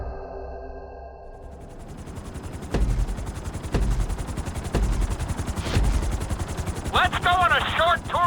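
A helicopter in Grand Theft Auto V spools up from a quiet start into a loud, steady rotor thrum with rhythmic blade thumps, joined near the end by a chirping electronic tone.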